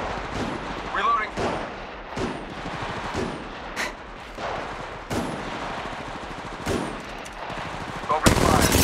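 Rapid weapon fire from an Apex Legends Mobile match comes in repeated sharp bursts with short gaps, loud and close, while a game character's voice calls out between shots.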